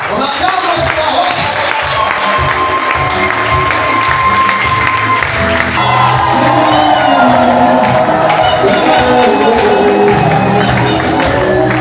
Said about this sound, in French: On acclame ça.